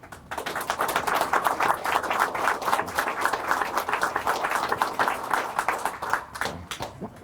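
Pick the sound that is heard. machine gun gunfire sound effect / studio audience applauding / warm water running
studio audience applauding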